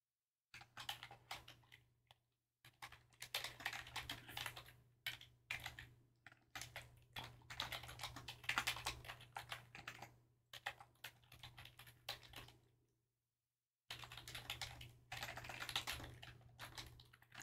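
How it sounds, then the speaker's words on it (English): Fingers tap steadily on a computer keyboard in quick, soft bursts of keystrokes, close by and fairly quiet. The typing breaks off into short silences, then resumes. "I'm typing these letters"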